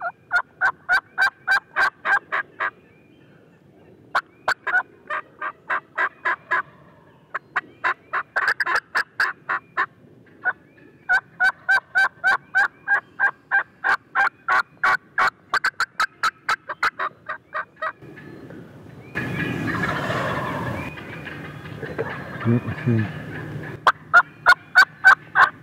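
Wild turkey longbeards gobble on a ridge in Ohio public land, loud rapid bursts of gobbling repeating in rhythmic series, with a brief stretch of rustling noise between calls.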